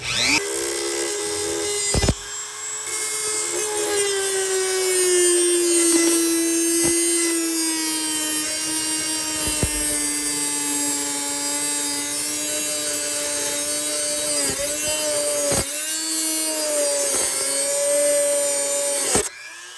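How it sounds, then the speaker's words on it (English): A Dremel rotary tool with a grinding wheel runs continuously as a loud, close, high-pitched whine whose pitch dips and wavers under load while grinding on a DIY drop trailer, with brief cutoffs and no talk. "Dremel with a grinding wheel on it."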